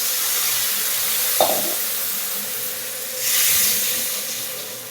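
Water poured onto frying spice paste in a pan, a loud steady sizzling hiss with a brief clatter and a second surge of steam and crackle, close up.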